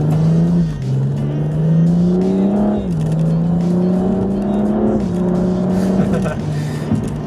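A BMW M235 engine revving and accelerating through several gear changes, a loud droning tone rising then dropping at each shift, heard close from inside the car.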